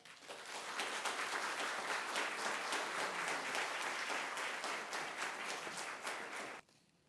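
Sustained audience applause fills a hall as a speaker is welcomed, steady dense clapping for about six seconds before stopping abruptly.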